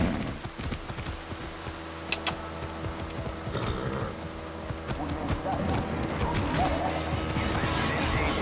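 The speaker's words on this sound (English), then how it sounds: "Hey, horse. Ready to go." A horse in the video game Far Cry 6 trotting with rhythmic clip-clop hoofbeats and a brief whinny, heard under a voice and background game sounds.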